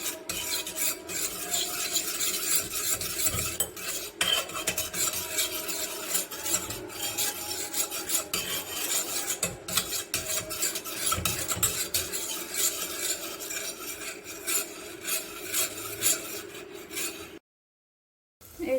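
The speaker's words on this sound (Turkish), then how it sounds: "çok hafif yağ ekleyip salça ve yağımızı kavuracağız" Tomato paste frying in a little oil while a utensil stirs and scrapes it around the pan, a steady close scraping rasp with faint sizzle that runs alone before cutting off near the end.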